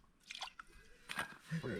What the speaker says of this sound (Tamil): மண் எடுத்து இந்த மாதிரி போட்டு தேய்ச்சி அவ்வளோதான், பாத்திரத்தை கழுவியாச்சு.